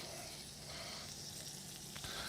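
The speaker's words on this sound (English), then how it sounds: "Want to make sure that we hear sizzle." Steady sizzling of shrimp and bacon frying in a hot pan, a constant hiss at moderate volume with no voices.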